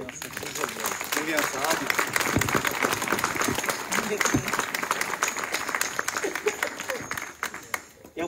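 Applause for newlyweds at a church wedding ceremony, a dense crowd of hands clapping steadily and loudly throughout, with voices talking over it.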